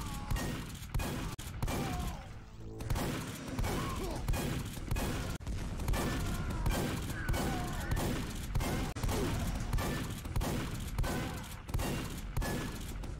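Team Fortress 2 shotgun fire in a one-on-one match: loud, rapid blasts repeating almost every second, with thuds and game noise between them and a voice talking in places.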